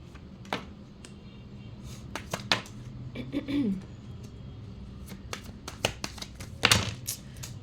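Tarot cards being shuffled by hand, giving scattered sharp snaps and riffling clicks at irregular intervals over a quiet room, with a brief burst of flapping cards near the end.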